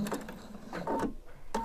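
A sewing machine stitches a stand collar slowly out toward its point, a steady mechanical whir with brief shifts in pace, heard close and alone.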